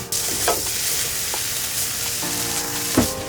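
Capsicum and chorizo frying in oil with spices in a pan on the road, a loud close sizzle with stirring scrapes and a few knocks of the utensil, no talking.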